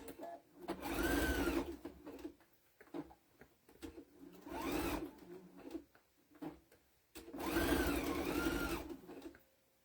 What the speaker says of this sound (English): I'm going to sew across the top.